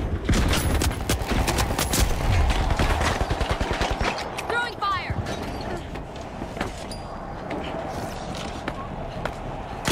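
Rapid automatic turret gunfire in The Finals, a loud burst of evenly spaced shots over the first four seconds, then scattered quieter impacts, with a player talking throughout.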